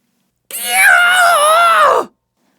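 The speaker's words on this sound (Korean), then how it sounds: "그런데 갑자기 어디선가 날카로운 비명소리가 울려 퍼졌어요." A sharp, sustained scream rings out in a synagogue during an audio drama, a single loud wavering cry of about a second and a half, heard alone without any talk over it.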